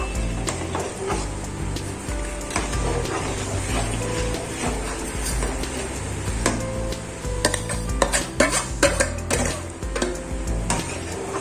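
Rava kesari being stirred in a pan, a spoon scraping and clattering against the metal in an irregular rhythm over a low cooking hiss, close and fairly loud, with no one speaking.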